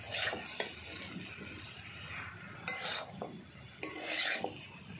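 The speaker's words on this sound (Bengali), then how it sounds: "দিয়ে এবার ভালো করে মশলার সঙ্গে মিশিয়ে নিচ্ছি।" A utensil stirs diced bottle gourd with spices in a pan for a spicy gourd and prawn dish, giving repeated scraping and clinking strokes over a low sizzle, close and moderately loud.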